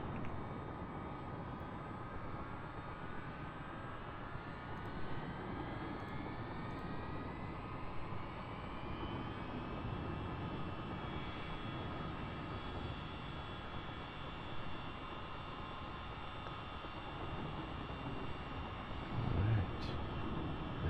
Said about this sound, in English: Instruments in the green, a good start on engine 2.